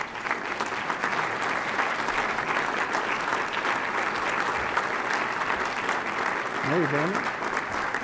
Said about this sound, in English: so you can receive the applause